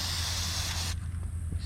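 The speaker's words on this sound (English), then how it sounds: "I do got some spray adhesive. So you get this in one shot here." A can of spray adhesive blasts a loud, steady aerosol hiss onto wasps for about a second, then cuts off abruptly, leaving only faint background noise.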